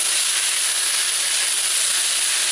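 Beef and broccoli stir-fry sizzling in a hot pan after more sauce is poured in, a steady loud hiss of frying that holds unbroken throughout with no voices.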